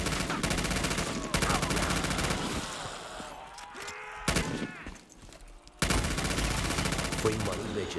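Krieg 6 wall weapon gunfire from a zombies video game rattles in rapid sustained bursts, pausing briefly midway amid other game sounds before the loud automatic fire resumes.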